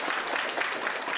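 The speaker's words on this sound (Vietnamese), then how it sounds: "Hay cho tràng pháo tay." An audience at a wedding celebration in Australia bursts into applause, a dense, loud burst of clapping from many hands filling the whole moment.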